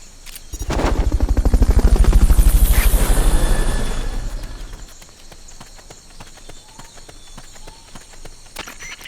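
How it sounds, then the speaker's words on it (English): Fulton recovery helicopter in Metal Gear Peace Walker, a loud, close rotor thump with rapid chopping pulses that swell over the first few seconds, then fade to a quieter background hum. "Fulton recovery subject confirmed onboard helicopter."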